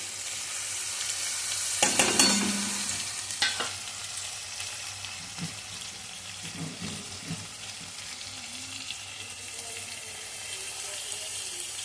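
Tomato fried in a pan with coriander, cumin and red chilli powder, garam masala and sliced green chilli for chana dal makes a soft, continuous sizzle. Scraping stirs come through, with a louder burst early on.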